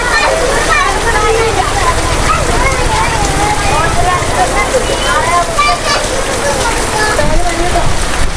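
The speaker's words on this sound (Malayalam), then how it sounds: "എന്താ കാറ്റ് കാറ്റും മഴയും" Heavy rain pours steadily with gusting wind, loud and close, while voices talk over it.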